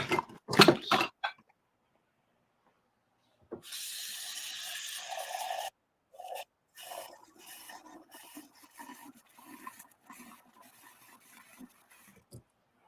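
Water is poured into a hot pan of seafood risotto with a loud hissing rush lasting about two seconds, then lighter intermittent sizzling and bubbling.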